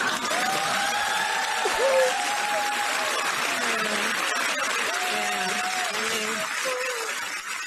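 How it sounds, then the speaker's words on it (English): Studio audience applauding and cheering, a dense steady clatter of clapping with some whoops, loud and continuous from start to finish. "Obviously they had one of those things that says applause"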